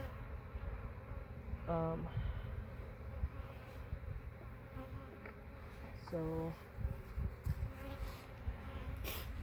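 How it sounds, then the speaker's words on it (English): Honey bees buzz steadily around an open hive during hive inspection, a continuous close drone with a few louder passes, while a voice talks faintly at times. "a couple bees get sacrificed every time I open the hives"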